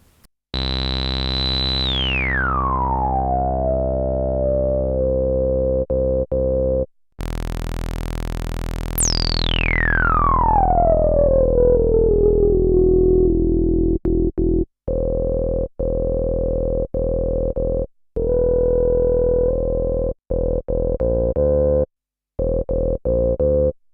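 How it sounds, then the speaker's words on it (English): A buzzing synthesizer tone sweeps steeply downward with a sharp resonant whistle riding the filter, resonance on the brink of self-oscillation, then a second sweep, followed by choppy stuttering bursts. "put the resonance just on the brink of self oscillation"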